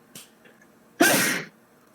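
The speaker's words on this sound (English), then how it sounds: "Yeah, I sneezed." A single loud sneeze bursts out close up, preceded by a faint short intake of breath, with near silence around it.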